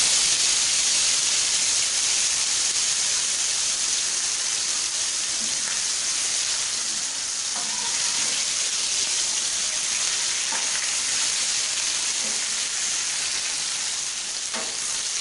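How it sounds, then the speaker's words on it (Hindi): Fish frying one piece at a time in ghee on a tawa makes a loud, continuous sizzle and hiss, close and steady throughout, with a few faint clinks of utensils. "तवे के ऊपर हमने घी डाल दिया तो अभी एक एक फिश एक एक करके हम इसको"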